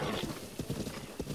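Horses in a Legend of Zelda game trotting with rhythmic clip-clopping hoof beats close by, loud and continuous, with a whinny mixed in.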